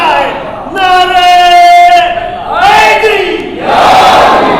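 A crowd at a Muharram majlis gathering chants a religious slogan in unison, loud and sustained, in two or three swelling shouted calls.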